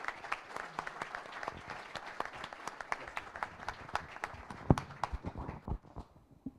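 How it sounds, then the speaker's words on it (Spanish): An audience at a book presentation applauds a commentator, with scattered individual claps ringing out distinctly over a softer bed of clapping that thins toward the end. "pido que recibamos con un aplauso"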